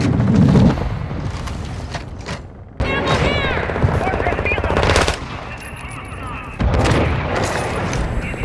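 Video game gunfire in a squad shooter: bursts of rapid automatic fire and sharp shots with booming impacts, loud and close, mixed with radio-style voices and talk.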